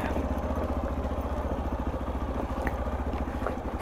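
A group of Hero Xpulse 200 motorcycles idles together nearby, making a steady low, throbbing engine pulse with a continuous even beat and no talking.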